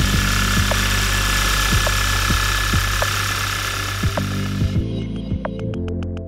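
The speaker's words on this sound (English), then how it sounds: "Start the engine and check again." A gasoline car engine with Bosch direct injection idles with a steady low hum and regular ticking pulses, then its tone shifts and thins out near the end.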